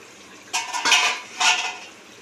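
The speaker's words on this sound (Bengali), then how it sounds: "ঢাকনাটি খুলে একবার দেখে নিচ্ছি।" A metal lid is lifted off a pot of simmering rui fish curry with poppy seed, giving two short, close clattering scrapes in a quiet kitchen with no talk.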